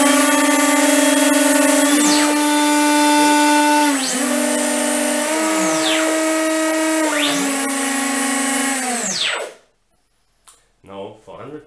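Twin electric motors on an RC plane under Futaba T6EX control whine loudly at throttle, the pitch repeatedly sweeping down and back up as one motor slows, then cutting out abruptly to near silence.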